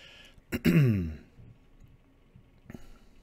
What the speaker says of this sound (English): I'll try to turn my head and clear my throat